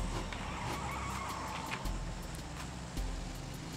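Motorcycle engine in PUBG on a 2x2 training map, a steady droning hum that runs loud and continuous throughout, with faint rumbling bumps underneath.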